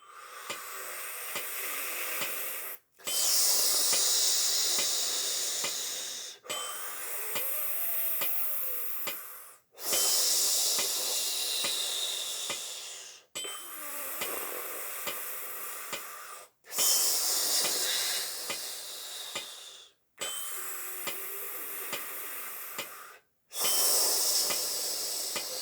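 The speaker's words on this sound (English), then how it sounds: "So we'll do breathe in for 4, out for 4." Slow, steady breaths in and out, each about four counts long, repeated in a regular cycle and heard close up as soft airy hissing with short pauses between them.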